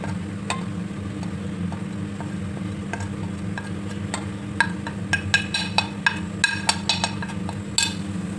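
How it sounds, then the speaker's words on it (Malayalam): Fish pickle is stirred with chili powder masala in a pan, a low steady sizzle underneath as a metal spoon scrapes and clinks against the pan in quick repeated strokes, growing busier toward the end. "നല്ലപോലെ ഇളക്കാം"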